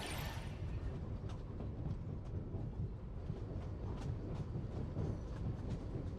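A train in Genshin Impact rumbles steadily with low, heavy rolling noise and scattered sharp metallic clicks, fairly loud and continuous, with no talking.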